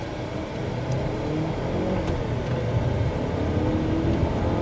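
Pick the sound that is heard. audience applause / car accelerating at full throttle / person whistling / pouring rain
car accelerating at full throttle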